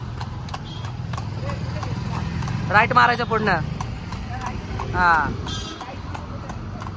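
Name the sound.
horse hooves clip-clopping while being ridden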